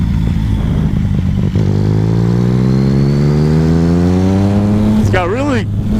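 Motorcycle engine with a loud aftermarket exhaust and its baffle removed, revving steadily higher in pitch for several seconds, then blipping sharply up and down near the end, close and loud over low background talk.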